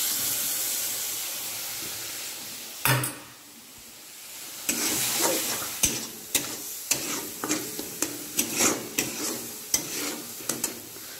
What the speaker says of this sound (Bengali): শুকনো লঙ্কা, তেজপাতা, সাদা জিরে গোটা দিয়ে মশলাগুলো ভেজে নিচ্ছি।